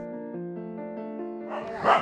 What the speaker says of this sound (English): apparently the dog's called Shere Khan from Jungle Book